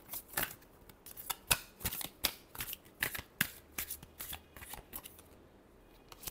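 Tarot cards are shuffled by hand in quick riffling bursts, a rapid series of crisp flicks and slaps close by, with no voices.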